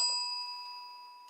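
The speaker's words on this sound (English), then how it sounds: "I just like my bell." A small bell, like a bicycle or service bell, struck once with a bright metallic ding whose clear ringing tone decays over about a second, close and alone.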